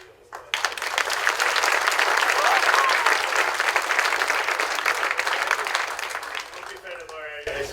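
An audience claps for a long-serving district staff member at a high school National Technical Honor Society induction ceremony, steady full applause from a sizable crowd that swells quickly and then thins out, with a voice starting to speak at the very end.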